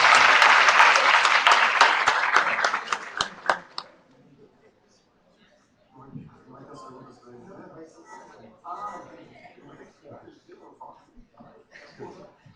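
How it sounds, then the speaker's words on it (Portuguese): Audience gives a speaker a round of applause, dense rhythmic clapping for about four seconds that stops abruptly, followed by a pause and then someone talking. "fica à vontade, Rômulo, salva de palmas para o nosso palestrante."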